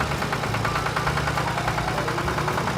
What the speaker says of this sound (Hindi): चलो चलो हल्क भाई, ट्रैक्टर को लेके चलो जल्दी जल्दी, वरना वो चोर तो और भी सारी गाड़ियों को तोड़